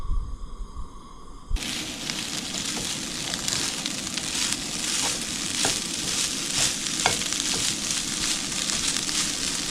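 Dinner frying in a pan at a desert campsite, a quiet start giving way to a loud, continuous sizzle with scattered sharp pops and crackles, close by and without talk.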